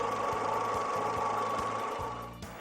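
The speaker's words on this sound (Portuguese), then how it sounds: "funcione o motor e deixe-o em marcha lenta por um breve período." A Peugeot 206 engine idles steadily, with a regular low ticking pulse and a constant mid-pitched hum that fades slightly toward the end, close and alone.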